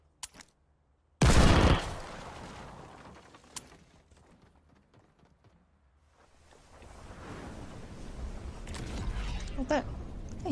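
Gunfire in a deathrun video game: one loud close shot, a few faint clicks and pops, then a rising rush of game noise.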